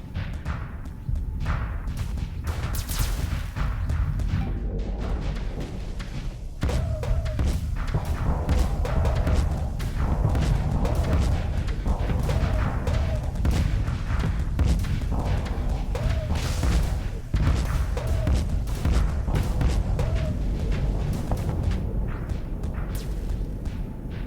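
Gauss cannons fire in a Starsector combat simulation, producing a dense, continuous run of heavy thuds and booming impacts over low rumble, with brief tonal blips scattered through the barrage.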